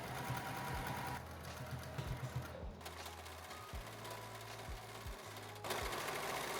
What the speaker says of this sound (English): Then we're gonna sew it down at 1/2 inch seam allowance.